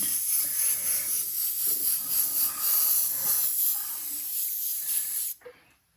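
An airbrush spraying Createx candy paint onto a mini car hood, a steady close hiss of air and paint for about five seconds, then cutting off abruptly.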